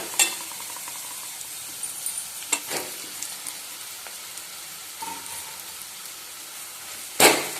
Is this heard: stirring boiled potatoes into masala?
yes